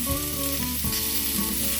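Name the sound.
steak searing in frying pan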